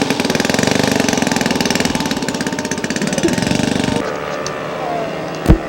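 A scale model PT-19 aircraft with a four-cylinder engine runs steadily and loudly near the listener for about four seconds, then drops to a quieter idle. A brief sharp knock or click follows near the end.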